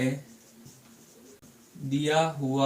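Writing on a board during a maths lesson on similar triangles, soft scratchy strokes mostly under a teacher's steady speaking voice, with a short quieter stretch in between.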